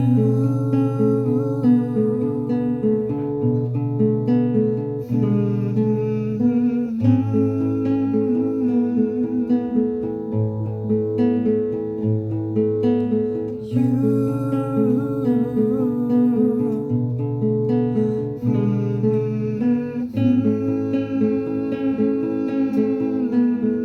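Steady fingerpicked acoustic guitar pattern from the song You, cycling through chords with even plucked notes and occasional chord changes, played alone and continuously with no talking.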